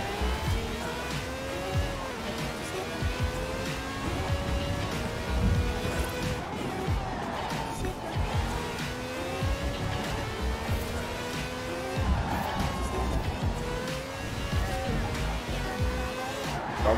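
Ferrari V12 race car roaring through a Forza Horizon 4 race, a steady high-revving engine drone with shifting pitch sweeps and occasional tire noise, continuous and fairly loud throughout.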